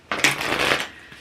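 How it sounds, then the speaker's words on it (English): A deck of oracle cards being shuffled by hand, a quick dense riffling flutter close up that swells and then fades over about a second, with no talking. "Shuffling, I get to work with the whole deck, which is fun."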